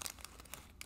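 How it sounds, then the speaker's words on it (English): A paleta payaso candy wrapper being unwrapped gives a short burst of close, crisp crinkling and crackling plastic, heard alone. "My favorite thing to do is to unwrap him and see what he actually looks like."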